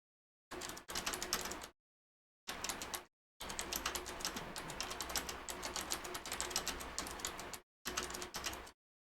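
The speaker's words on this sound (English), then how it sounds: "I hear typing. Who's A typing?" Someone types steadily on a computer keyboard in close, clattering bursts, pausing briefly several times between runs of rapid key presses, with no voices over it.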